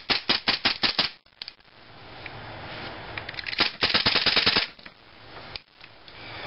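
A KJW M9 full metal airsoft pistol fires in rapid bursts, a quick string of sharp close snaps, a pause with mechanical noise, then another fast volley of shots up close, with no talking.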